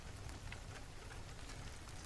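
Steady, dense rain falls in an even wash of patter with no breaks or voices.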